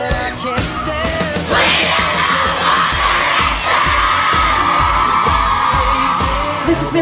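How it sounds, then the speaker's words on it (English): Crowd of girls screaming and yelling at a TV event, a loud continuous roar of high-pitched shrieks over thumping music, sustained throughout. "The girls have been screaming and falling"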